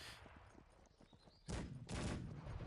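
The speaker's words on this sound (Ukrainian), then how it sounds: "Гармати працюють, що від мене," Heavy booming blasts of cannon fire in the video game Cossacks 3 burst in from halfway through, loud and dense, following a quieter stretch of scattered rumbling.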